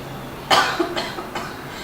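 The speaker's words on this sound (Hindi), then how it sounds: "खांसी तो खत्म होने का नाम ही नहीं लेती" A man in a drama scene coughs close to the microphone, one harsh burst followed by two weaker coughs within about a second, then quiet.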